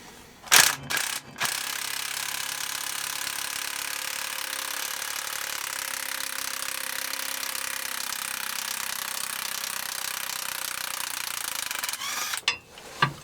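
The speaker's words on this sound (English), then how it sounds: "Using a 21mm impact socket and our electric impact gun, I'm going to remove the 3 bolts that we need to." An electric impact gun fitted with a 21mm impact socket works bolts loose on an RV's rear trac bar bracket, with a steady, loud mechanical whir held for about eleven seconds and short bursts at the start and end.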